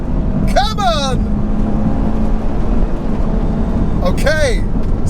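High-performance car at full throttle, engine roaring loud and constant as it accelerates hard, with a voice speaking over it twice.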